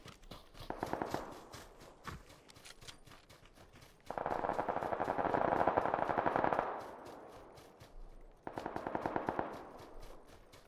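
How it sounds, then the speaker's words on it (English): Suppressed SMG fire in the PUBG battle royale game, rapid muffled bursts in three clusters with brief gaps between, fairly close and loud, with no talk over it. "I think he shot you with like SMG or something, like a suppressed SMG."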